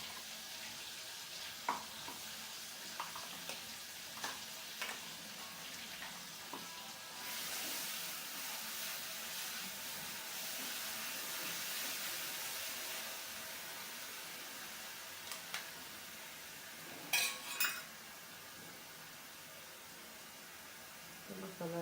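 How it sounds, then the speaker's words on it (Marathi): Garlic, ginger, chili and coriander paste sautés in a pan with a steady hiss and sizzle through most of the stretch, joined by occasional stirring clinks and a brief louder burst near the end. "तर सगळं चांगलं परतून घ्यायचं."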